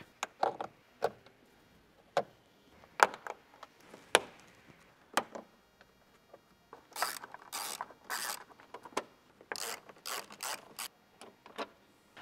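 A ratchet loosens 10 mm bolts and plastic clips on a Ford Next-Gen Ranger bumper with sharp, close clicks spaced about a second apart, then quick runs of rapid ratcheting bursts, with no talk.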